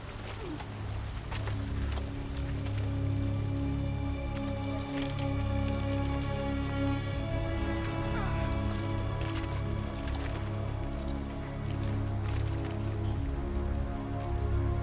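Steady rain falls, pattering close on surfaces in a dense, even wash with scattered individual drops ticking through, unbroken for the whole stretch and with no voices.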